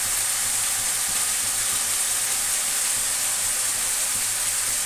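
Ground turmeric and coriander powder go into a pan of hot oil, producing a loud, continuous hissing sizzle that stays even throughout with no talking.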